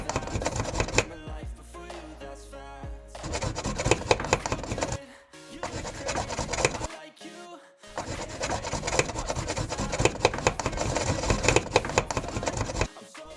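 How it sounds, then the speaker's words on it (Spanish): A metal fog light bracket filed to smooth rough edges, rhythmic close rasping strokes in several bursts separated by short pauses, no voices. "limar asperezas del portafaro"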